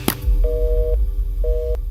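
A telephone busy tone after a call is hung up, two clean beeps in an even rhythm following a brief click, with a low hum underneath.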